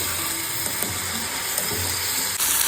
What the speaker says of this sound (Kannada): ಇಷ್ಟನ್ನು ನಾನು ಗೋಲ್ಡನ್ ಫ್ರೈ ಬರೋ ತನಕ ಫ್ರೈ ಮಾಡ್ತೀನಿ.